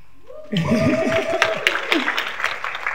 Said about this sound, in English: So, round of applause for the Czech Republic.